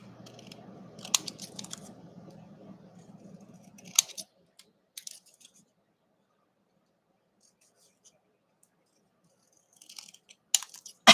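Scissors snipping while trimming in a studio during cleanup, a few quick close cuts early on over faint background hum, then near silence with a couple of brief clicks and rustles near the end.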